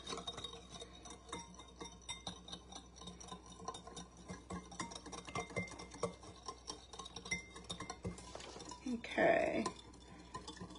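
Coleslaw dressing is stirred in a bowl with a utensil, producing soft, quiet rhythmic scraping and faint clinks of metal on the dish, with a slightly louder clatter near the end and no talking.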